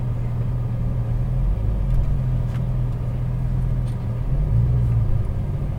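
A Porsche 911 GT3 of the 991.1 generation creeps forward from a stop, its engine a steady low rumble heard close from inside the cabin, even and unrevved throughout.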